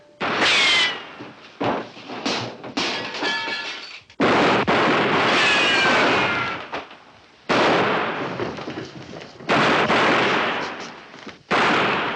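Repeated bursts of gunfire crack out in a 1958 Western film, loud and close, in several volleys separated by short pauses with no talking.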